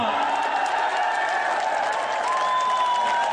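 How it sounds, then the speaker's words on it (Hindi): Audience members at a Hindi poetry recital (kavi sammelan) clap continuously in dense, even applause mixed with a few cheers, while a poet's voice rises over the crowd. "और तालियां आपने पहले ही बजा दी"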